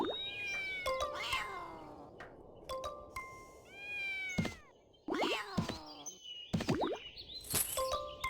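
A little lost kitten in the video game Mabinogi meows repeatedly, with several bright, close cat meows arriving in uneven bursts alongside chimes and pops from the game.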